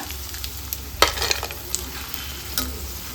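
Edible gum frying and puffing in a pan for a laddu, a steady close sizzle with scattered crackles and a few sharper scraping stirs, without talk.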